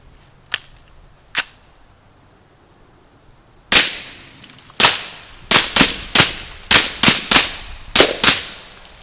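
A suppressed 300 Blackout rifle on a 5/8x24 direct-thread mount fires 147-grain subsonic rounds: two softer early cracks, then a string of about ten sharp, close reports at an irregular quick pace.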